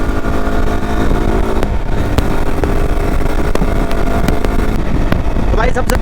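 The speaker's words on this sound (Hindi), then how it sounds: "अपन अब टेस्ट करेंगे YSG एडवेंचर का फुल पोटेंशियल" Yezdi Adventure motorcycle ridden at high speed on the road, a loud steady engine drone mixed with heavy wind rush, with brief sharp clicks and a rising whine near the end.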